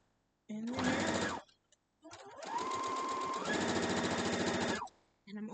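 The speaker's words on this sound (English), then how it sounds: "So I'm sewing these through" Close sewing machine stitching pieces of a broken dishes quilt block, two runs of rapid mechanical whirring that ramp up and hold steady, separated by a short pause with faint handling.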